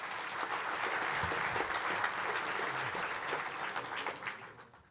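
Applause at a Swedish football association meeting for a gold referee's pin recipient, a steady, fairly faint wash of many hands clapping that holds for several seconds before fading out.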